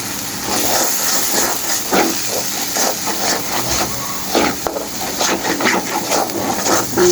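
Chili powder, salt and ginger-garlic paste sizzle and hiss in hot oil as masala fries for prawn malaikari, a steady close crackle with no talk.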